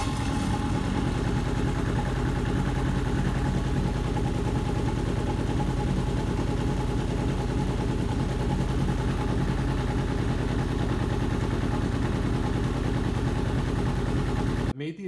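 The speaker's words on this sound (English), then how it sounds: "I'm gonna fire up the bike" A 1980 Honda CB750F DOHC motorcycle engine idling steadily, a continuous even rumble heard close for about fifteen seconds, cutting off abruptly at the very end.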